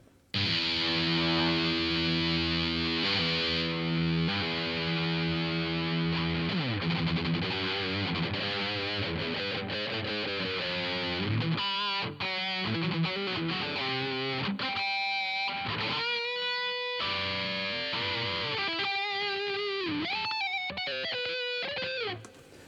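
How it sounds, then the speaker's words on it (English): Loud, saturated distorted electric guitar through a Line 6 DM-4 Distortion Modeler, playing sustained chords and then fast riffs and runs, with a thick, buzzy, mid-scooped metal tone. "it's metal, heavily scooped, tones"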